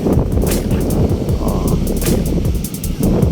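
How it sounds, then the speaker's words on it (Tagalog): Strong cold wind after typhoon Goring buffets the microphone at the Manila Bay beach, a loud, gusty roar with uneven bursts and no speech. "Ang lamig ng hangin ngayon dito, malakas."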